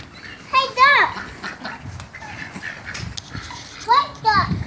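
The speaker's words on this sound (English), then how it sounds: "Hey, duck!" Ducks at a pond with coots nearby give two short, nasal quacks, one early and one near the end, amid children's voices and outdoor background noise.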